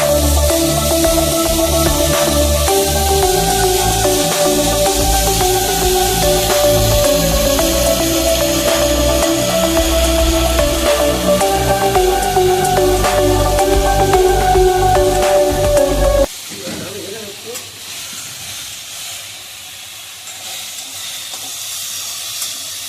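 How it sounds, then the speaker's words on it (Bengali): Pumpkin fries in a pan with a steady, loud hiss and sizzle under a musical background; the sizzle drops to a softer, quieter hiss for the last few seconds. "এবার আমি কুমড়োটা ভেজে নেব"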